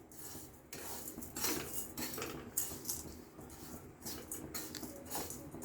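A utensil scrapes and clinks in a pan as sugar is stirred over low heat while it melts for tea, a repeated rhythmic scraping, soft and close with no talk.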